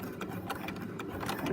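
Sewing machine back stitching fabric for an elastic wallet, a steady close mechanical whir with a fast stitching pulse throughout.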